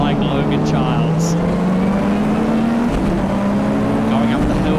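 A Mitsubishi Evo race car climbs a hill at Hampton Downs circuit, its engine note rising steadily and loud and close, with other racing engines roaring around it.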